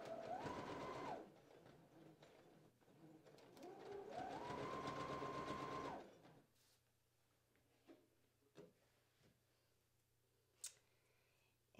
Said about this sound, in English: Down here, you're gonna sew following your lines.